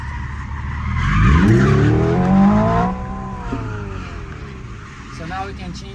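Hyundai Ioniq 5 N electric car doing a launch control start at the New York auto show, with a loud rising synthetic engine-like tone and tire noise that swells then fades, heard from inside with people talking over it.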